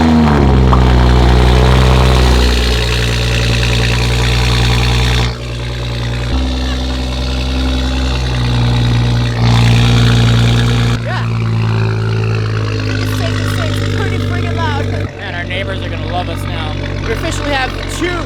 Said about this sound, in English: this is the first ever cold start in Sarah's new, now straight piped M235i